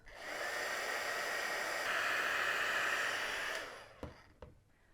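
A heat tool blows a steady, loud whooshing hiss for about three and a half seconds while heat-setting embossing glaze on a rubber stamp, then cuts off, followed by a couple of faint knocks.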